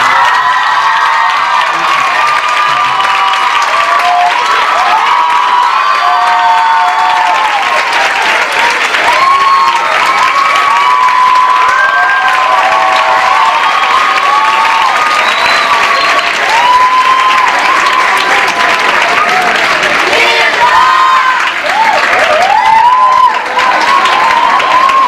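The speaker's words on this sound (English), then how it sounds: "Let's give a warm round of applause to all of our winners." A large crowd applauds and cheers for the winners at the Youth America Grand Prix 2011 New York City finals ballet competition awards, with loud sustained clapping, whoops and children's shouts running continuously throughout.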